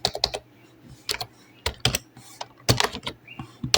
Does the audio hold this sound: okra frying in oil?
no